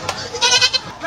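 A goat gives a short, close, fairly loud bleat lasting under a second.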